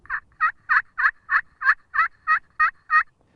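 A slate turkey call worked with a striker to imitate a mature hen, deep with a gravelly rasp: a steady run of about ten evenly spaced, loud, close yelps, with no talking.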